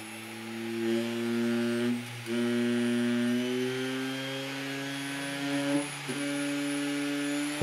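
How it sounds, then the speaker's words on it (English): Small electric motor controlled by a Raspberry Pi, a steady rising whine that steps up in pitch at several increments as it accelerates, clear and alone. "Incrementing the switch causes the motor to accelerate."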